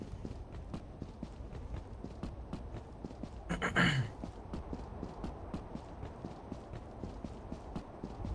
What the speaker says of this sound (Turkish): dev ayak sesi var burada